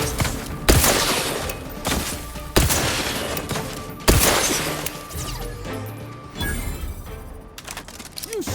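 Gunfire from The Outer Worlds 2, heard as three loud, sharp bursts spaced a few seconds apart, each with a decaying tail over a steady in-game background.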